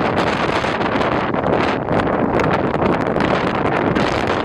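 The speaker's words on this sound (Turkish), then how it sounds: "akşam saatlerinden itibaren ilçede etkili olan yağışa kuvvetli rüzgar da eşlik ediyor" Strong storm wind buffets the microphone during heavy rain in Bodrum, a loud, steady roaring rush with gusty flutter that runs the whole time without letting up.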